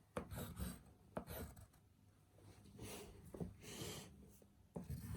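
Pen or pencil writing a number on paper, scratchy rubbing strokes in a quick uneven series, quiet and close with no talking.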